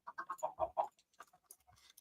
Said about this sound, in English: I heard that chicken.